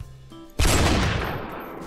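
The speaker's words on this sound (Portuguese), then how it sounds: "que tiro foi esse do Pantera, cara?" A single loud gunshot in the Roblox game Super Hero Tycoon bursts in after a quiet moment, then rings out in a long fading tail.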